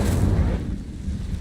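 A fiery Incendio spell blast in Hogwarts Legacy, heard as a loud, low, rumbling burst that rolls on as a sustained roar for the full moment and dies away slowly.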